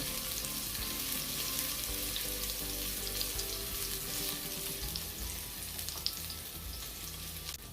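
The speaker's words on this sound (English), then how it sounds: "I'm going to saute it a little, for a couple seconds." Minced garlic sautés in a hot pan of oil while cooking coconut yellow rice, giving a steady, close, continuous sizzle and crackle with no voices.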